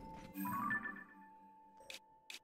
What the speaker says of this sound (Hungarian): És tök ilyen élőben is a csengője csilingel.